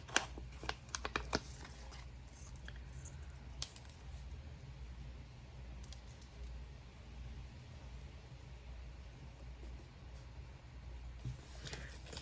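Scissors snip a small piece off a paper page while setting up a Hobonichi Cousin planner, a quick cluster of crisp cuts near the start and another at the end, close and fairly quiet over a steady low room hum.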